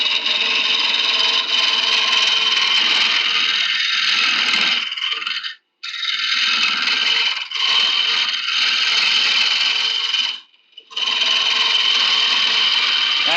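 A wood lathe turns a horse chestnut hollow form, a loud continuous tool-on-wood hiss and scrape that drops out twice as the cutting tool is lifted away.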